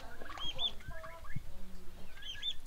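Hen on a ranch clucking at her nest while preparing to lay an egg, soft bird calls repeating over a busy farmyard background with chicks and other fowl nearby.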